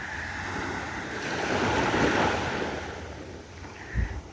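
Evening surf at Sur Beach in Oman washes in as a steady, broad rush of waves under wind noise, swelling in the middle and easing off, with a brief low thump near the end.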